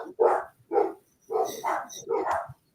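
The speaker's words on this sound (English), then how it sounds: "That's why the dogs are going crazy." Dogs bark excitedly at a pizza delivery after the doorbell rings, five loud, close barks in two quick bursts separated by a short pause.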